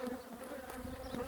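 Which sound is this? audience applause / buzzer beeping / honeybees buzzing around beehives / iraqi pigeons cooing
honeybees buzzing around beehives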